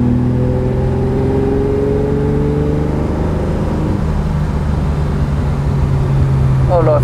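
A 1968 Ferrari 365 GT 2+2 with a V12 engine runs steadily up close, its deep, continuous drone shifting slightly in pitch midway, with a voice speaking over it.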